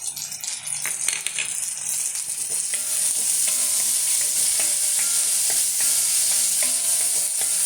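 Crushed garlic and ginger fry in a pan with a loud, steady hiss that swells after a few seconds. Light rattling stirs sound underneath, and there is no talking.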